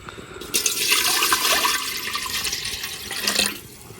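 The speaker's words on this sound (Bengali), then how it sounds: "এখন পানি দিয়ে দেব।" Water is poured into a cooking pot with a stand set inside, on a clay stove while making caramel egg pudding; a steady splashing pour runs for about three seconds, close and fairly loud, with no talk.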